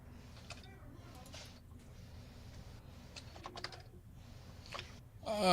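Typing on a computer keyboard gives a steady patter of light clicks with brief pauses, set against a low background hum; a louder burst comes right at the end.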